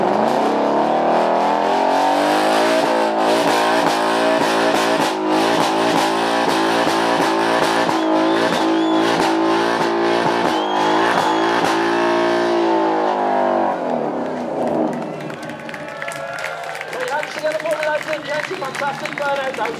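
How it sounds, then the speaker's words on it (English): Car burning out its tyres on a race track at a supercar weekend, a loud, dense engine roar at high revs with screeching tyre noise that drops off near the end, over a commentator talking throughout. "Fantastic, burn out those tyres"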